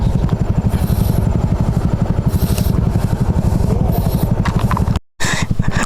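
A motorcycle engine stuck in mud chugs loudly and steadily up close, with clattering and thumping throughout and a brief dropout near the end.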